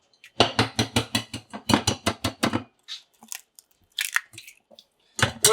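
Eggs whisked briskly in a mixing bowl, a fast rhythmic run of loud close clacking strokes that pauses briefly before a few more scattered taps and strokes, with no voices.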